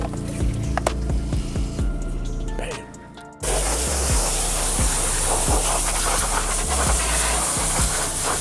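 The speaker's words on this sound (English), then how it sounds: "So we're gonna spray all these door jambs down." A pump sprayer sprays chemical onto car door jambs, hissing steadily after a quiet start, a broad continuous spray with occasional soft clicks and squishes over about five seconds.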